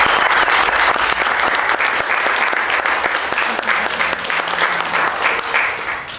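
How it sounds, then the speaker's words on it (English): A round of applause from the crowd at a grand opening, honoring clubhouse members: dense, continuous clapping, loud and close, tapering slightly toward the end. "can we get a round of applause for the members?"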